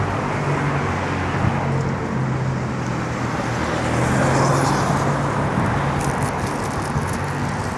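Steady, loud road traffic flows past on a busy street in Thailand, a continuous engine rumble with vehicles passing close by and no pauses.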